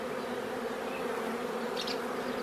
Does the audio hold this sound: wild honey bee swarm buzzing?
yes